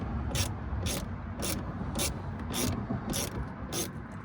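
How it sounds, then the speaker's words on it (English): Ratcheting screwdriver backing out T20 screws in the dash of a 2025 Volkswagen Golf R. Crisp, evenly spaced ratchet clicks repeat about every half second, close and fairly quiet, with no talking. "Now let's work on these three T20 screws."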